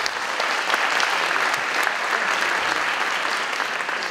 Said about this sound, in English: you always get an applause when you come to the front